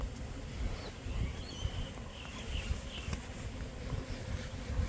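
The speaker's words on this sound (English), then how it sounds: "We can see some bees over in here" A swarm of bees buzzes around a hive box outdoors, a steady low hum with a few passing bees, moderately close and unaccompanied by speech.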